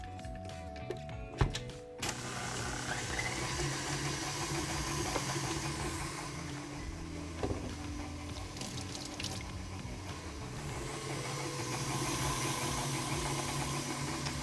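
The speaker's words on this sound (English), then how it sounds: "adding our butter together with our sugar into our machine and start by creaming them together" A stand mixer creaming butter and sugar makes a steady whirring drone for the whole stretch, with a brief clatter near the start.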